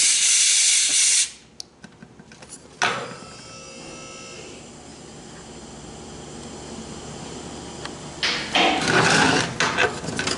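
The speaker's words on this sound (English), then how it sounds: "Too much air, too much oil just leaking out of here." Air hisses out of a 4T65E automatic transmission valve body, loud close bursts of hiss at the start and again near the end, with a quieter stretch of faint mechanical noise between them.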